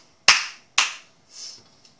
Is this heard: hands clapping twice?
yes